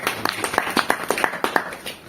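A small audience claps in a brief, uneven patter of individual hand claps at a business-plan presentation, fairly close and moderately loud, with no voices over it.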